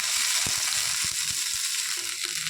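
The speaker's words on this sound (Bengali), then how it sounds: "ঢ্যাঁড়সগুলো প্রায় ভাজা হয়ে এসছে" Okra frying in a pan with no onion or garlic, a steady close sizzle with occasional stirring clicks and scrapes, with no one talking.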